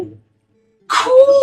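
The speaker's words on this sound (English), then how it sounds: "Oh, there's a dog right there." A dog in The Legend of Zelda: Twilight Princess gives a short whimpering yip, a brief close tonal cry after a moment of silence, with a faint voice at the very start.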